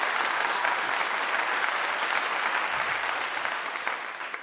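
A steady wash of applause from a crowd holds at an even level throughout, fairly distant and diffuse, with no voices standing out and a slight fade near the end.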